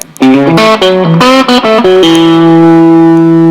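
A heavily distorted electric guitar through a vintage tube amp plays a few quick notes, then holds a thick, sustained chord that rings on with a gritty, saturated edge.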